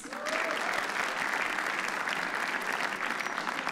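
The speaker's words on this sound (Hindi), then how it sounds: "शशि धीमन के लिए तालियां प्लीज।" A studio audience at a comedy roast show claps steadily for comedian Shashi Dhiman, a dense, even wash of applause that holds at a constant level from start to finish.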